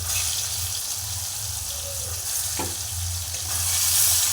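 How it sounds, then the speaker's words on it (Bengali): Soybean chunks fry in hot oil with a steady, close, even hiss and a low background hum, with one brief clatter partway through. "তো এই তেলের মধ্যে আমি সয়াবিনগুলো ভালোভাবে ভেজে নেব।"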